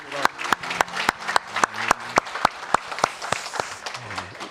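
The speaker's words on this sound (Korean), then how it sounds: "우리 하나님께 감사의 박수" A Korean church congregation applauds during a Sunday worship service, a roomful of steady clapping with strong, evenly spaced rhythmic claps near the front and a murmur of voices beneath.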